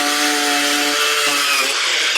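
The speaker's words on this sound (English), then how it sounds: "Using a small grinder with a steel bristle brush is the best way to clean the metal," A small angle grinder fitted with a steel bristle wire brush scours a metal roof, running at a steady high whine with harmonic tones and a broad harsh scrubbing hiss, close and loud throughout with a slight pitch drop as it loads.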